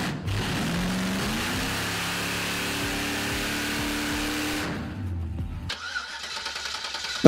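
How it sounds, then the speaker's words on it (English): A Humvee engine cranks and catches, then runs with a rough, uneven mid-pitched drone and some revving. It cuts out near the end, leaving brief quiet before a sharp thump. "Let's see if it does a burnout."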